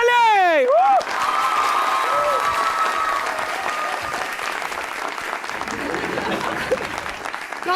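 A studio audience breaks into loud clapping and some cheering to welcome actress Fiza Ali, starting after a short musical sting and continuing under a host's voice.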